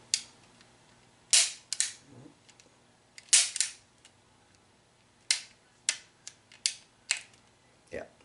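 Sharp mechanical clicks from an H&K pistol's trigger being squeezed and dry-firing, a handful of crisp, close snaps spaced irregularly over a quiet background.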